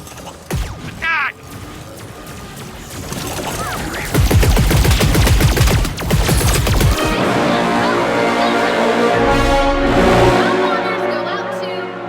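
Sustained minigun fire from the Sentinel in Star Wars Hunters, a dense rapid rattle that swells loud mid-clip and runs on continuously, with game sound effects and a brief voice early.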